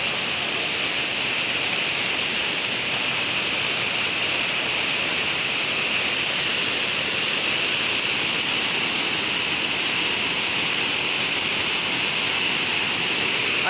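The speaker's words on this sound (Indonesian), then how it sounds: "Airnya bergemuruh." Water roaring over the spillway of the Dutch-built Karacak dam: a steady, loud, unbroken broadband rush of churning water that fills the whole stretch, with no voices.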